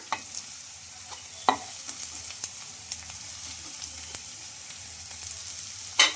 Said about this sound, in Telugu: ఇప్పుడు తురిమిన క్యాబేజ్ అయితే వేసేసుకుంటున్నా